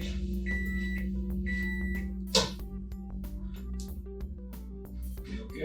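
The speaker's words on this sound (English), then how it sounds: "And into the microwave." A microwave oven hums steadily while being started, with several short electronic beeps from its keypad and a faint clunk partway through, all fairly quiet and without voices.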